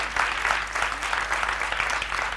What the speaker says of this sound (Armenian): Ծափարենք Վահեին, նա գիտեր ճիշտ պատասխանը։